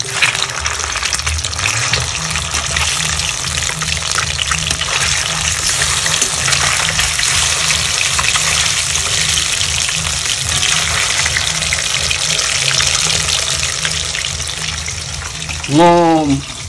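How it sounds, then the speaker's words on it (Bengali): Fish frying in a pan during a home festival meal gives a loud, dense, continuous sizzle that fills the whole stretch, with a short rising tonal sound near the end. "মাছ ভাজা চলছে এখন"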